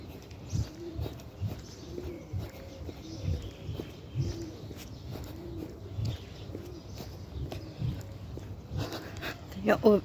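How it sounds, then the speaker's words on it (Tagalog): Birds coo and chirp outdoors during a morning walk, soft repeated calls drifting in the background while a person talks over them. "Ito may mga ibon"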